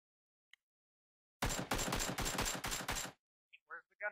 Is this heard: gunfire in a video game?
yes